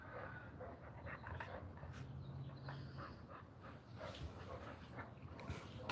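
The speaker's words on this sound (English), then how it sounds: "You hear puppies?" Puppies pant and whimper softly close by in a quiet room, a faint, steady breathy rhythm with small whines and no talk.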